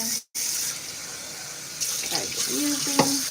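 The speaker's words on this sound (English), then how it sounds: "Actually, I'm gonna have some water. Put my cup in here" Tap water runs steadily into a cup at a kitchen sink, a continuous close hiss with a brief break near the start and some faint background voice.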